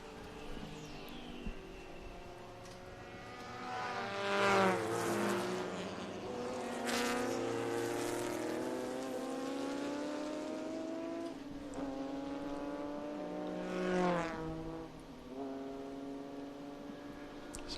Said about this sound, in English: John DeGainer is going to come flying up on it here in a minute